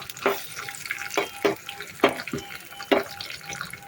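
Coconut pieces for garnish fry in hot oil with stirring, giving a series of sharp bursts and scrapes roughly every half second over a faint crackling sizzle.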